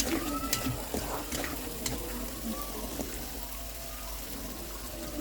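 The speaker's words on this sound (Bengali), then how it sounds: "আর এদিকে পানি দিয়ে দিছে সিদ্ধ হওয়ার জন্য" Water poured into a cooking pot of bean seeds with spices and sliced green chillies, set to boil; a steady, fairly loud splashing wash of liquid runs throughout with a few clinks.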